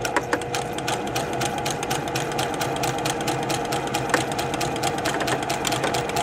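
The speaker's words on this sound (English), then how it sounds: "I'm going to start my machine slowly. I'm going to pull out the first pin, and then I'm going to continue sewing." A sewing machine stitches a fabric seam at a steady, rapid rhythm. Its even mechanical clatter carries throughout, close and alone.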